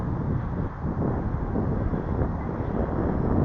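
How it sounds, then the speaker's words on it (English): Strong wind buffets the microphone outdoors during a windy flying session with a small E-flite UMX Beast model plane, a dense continuous rushing roar with brief gusty dips. "Might be the wind."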